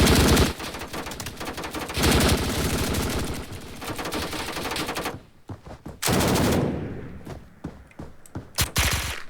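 Sustained bursts of M249 machine gun fire in the video game Blackhawk Rescue Mission 5, loud rapid automatic rattling with a short pause and then scattered shorter bursts and single shots.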